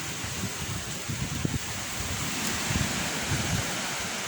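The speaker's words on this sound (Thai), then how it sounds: "โอ้ลมแรง" Strong wind buffets the microphone on Khao Phraya Doen Thong, a hill viewpoint, producing a constant roaring rush with low rumbling gusts throughout and no voices.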